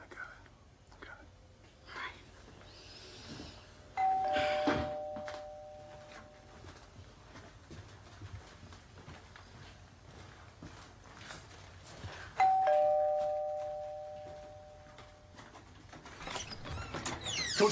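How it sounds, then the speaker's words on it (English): A doorbell chimes twice, a few seconds apart, each ring a clear two-tone ding-dong, amid quiet indoor sounds and soft voices. "They ring this doorbell one more time."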